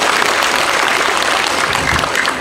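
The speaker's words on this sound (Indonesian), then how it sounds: "Tepuk tangan Bapak Ibu." Loud, sustained applause from an audience at a regional government innovation product exhibition in Sragen, a dense steady clapping wash with no speech on top.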